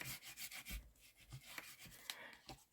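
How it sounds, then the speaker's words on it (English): Soft rhythmic rubbing as a folded paper card panel is burnished down, close and quiet, in quick repeated strokes. "give that a good burnish down"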